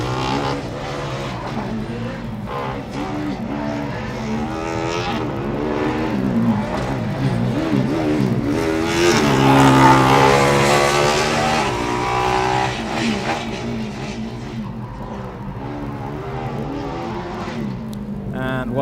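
Formula Student race car with a double aero wing running an autocross course at FSG 2012, its engine droning and rising steadily at moderate distance, with an announcer talking over it throughout.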